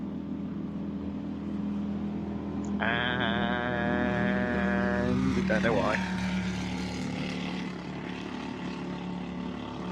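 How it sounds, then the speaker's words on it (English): Race cars at the Spa 24 Hours crawl down the pit lane on speed limiters, their engines giving a rough, stuttering drone that lingers, with a louder buzzing pass partway through under commentary. "The cars sound absolutely terrible at this sort of speed, but they're on a pit lane speed limiter"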